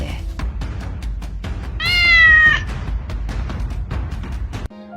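A cat meows once in a long, wavering, clear call lasting under a second, set against a steady background of low rumble and scattered soft knocks, with no talk.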